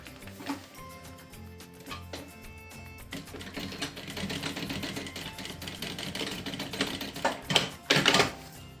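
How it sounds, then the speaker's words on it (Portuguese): A sewing machine runs a seam along the edge of white faux leather, its rapid mechanical stitching rattling steadily close by, with brief pauses at the start before settling into continuous running. "vamos fazer aqui uma costurinha à beirinha"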